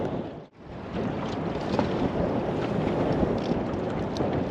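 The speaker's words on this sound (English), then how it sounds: "Super windy." Strong wind beside a river buffets the microphone with a continuous heavy roar, briefly dropping out for a moment before gusting back steadily loud.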